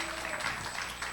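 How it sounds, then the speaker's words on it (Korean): Congregation applause during a church sermon: a brief, steady wash of clapping from a room full of people, with no distinct single claps standing out. "박수 한번 쳐주세요."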